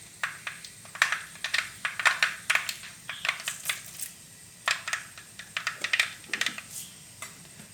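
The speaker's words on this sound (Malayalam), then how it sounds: "നമ്മുടെ കടുക് പൊട്ടി വരുന്നുണ്ട്. നന്നായിട്ടൊന്ന് പൊട്ടട്ടെ കേട്ടോ." Mustard seeds pop and crackle in hot oil for a Kerala stingray curry, a close run of sharp, irregular snaps arriving in quick clusters with short gaps, no voices.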